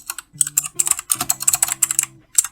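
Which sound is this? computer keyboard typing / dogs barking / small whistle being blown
computer keyboard typing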